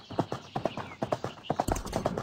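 Galloping hooves from a horse in the video game Horse World 3D, a quick, regular clip-clop rhythm of close, crisp hoofbeats heard on their own.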